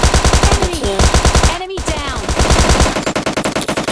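Automatic gunfire from the battle royale game PUBG Lite, played in duo mode, hammers out in loud, rapid, evenly spaced bursts that run almost without a break, with a brief gap midway.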